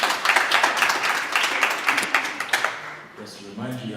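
An audience at the Anza Founder's Night event claps energetically to welcome a speaker, the applause fading after about three seconds as a voice begins talking.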